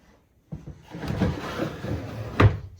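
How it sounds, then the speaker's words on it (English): A sliding door on a restored 1940s Brayshaw showman's living wagon rolls open with a short wooden rumble and ends in a sharp knock, close by with no talking. "Sliding door"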